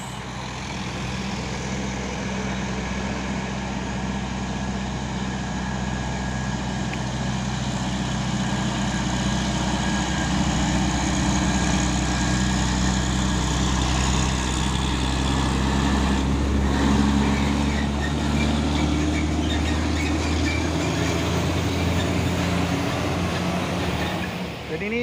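A Hino 500 trailer truck labours up the Bukit Kodok hill climb, giving a steady, loud, deep engine drone and road rumble that holds for about twenty-five seconds without letting up.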